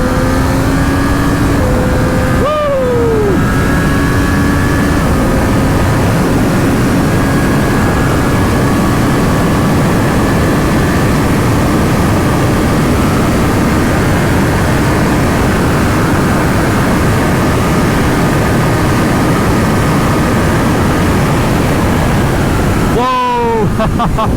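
A 2024 Triumph Street Triple 765 Moto2 Edition motorcycle is ridden hard, with heavy wind roar swamping a loud engine whose pitch sweeps through quick gear changes at the start and end.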